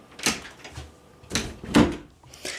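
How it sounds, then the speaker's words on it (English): A door is pushed shut indoors in a home room, a few soft thuds and knocks spread across a couple of seconds, near and moderate in loudness, with no talking. "gonna close the door"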